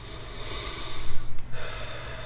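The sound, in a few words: deep breathing during mudra exercise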